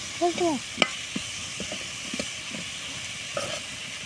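A quiet sizzle of brinjal frying in a pan, with occasional light clinks and a brief chirp near the start.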